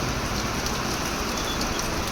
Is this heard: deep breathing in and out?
no